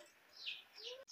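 A canary kept among exotic birds chirps faintly, giving a few quick high tweets in under a second against a soft background.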